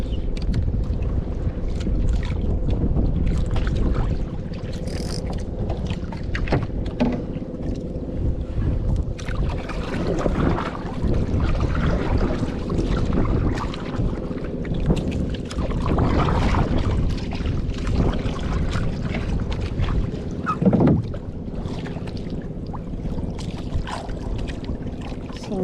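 Wind blows hard and constantly past a small fishing boat on the water, a loud, unbroken roar lasting throughout, with no one speaking.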